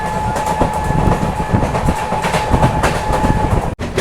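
Inside the 12343 Darjeeling Mail as it moves, a loud, continuous rumble of the carriage with rhythmic wheel clatter and knocks on the rails, heard close with no talk.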